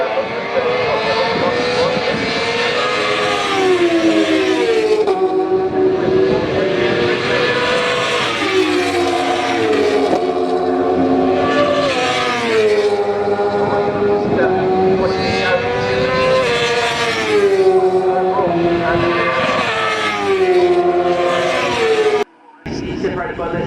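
Racing motorbikes from the MRO Powerbikes race at Snetterton scream past in waves, with high rising and falling engine whines and gear changes, loud and near, while a commentator talks over them.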